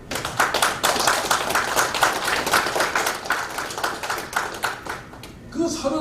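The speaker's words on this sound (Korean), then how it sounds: "그럴 때 여러분들이 박수로 환영해 주는 거예요" Audience clapping in welcome at a Korean commemorative lecture hall, a dense patter of many hands sustained for several seconds at moderate loudness, fading slightly before a voice begins at the end.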